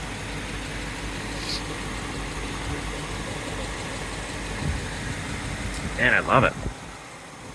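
A fuel-injected 4.6L V8 in a restomodded 1955 Mercury 100 Stepside pickup idles in a low, steady, smooth rumble, with someone speaking briefly over it near the end.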